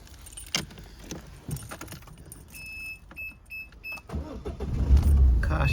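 Car engine being started after a used engine ECU was programmed and fitted: keys jangle, dash chimes beep a few times, then the starter cranks and the engine catches into a steady near idle rumble.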